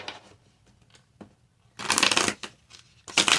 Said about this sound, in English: Sorry, my shuffle is all horrible right now.